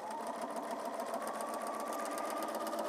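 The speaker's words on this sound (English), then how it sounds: "And we're going to sew a scant 1/4 inch seam." Sewing machine running steadily while stitching a scant quarter-inch seam on quilt strips, a close, continuous whirring hum with no pauses and no talk.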